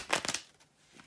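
Tarot cards are shuffled by hand in a brief, faint riffle of papery flicks, a few quick bursts that fade within a second.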